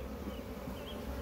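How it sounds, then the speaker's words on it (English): Honeybees at an opened queenless hive make a dense, steady buzzing drone close to the microphone, a continuous hum with no talking. "These bees are rushing."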